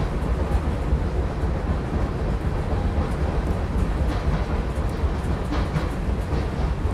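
Vande Bharat Express train running in Train Simulator Classic, a steady, dense rolling rumble with faint rhythmic track clatter throughout, close and continuous, with no one talking.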